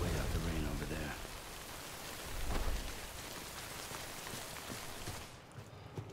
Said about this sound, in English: We'll wait out the rain over there.